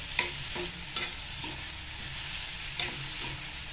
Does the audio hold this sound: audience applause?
no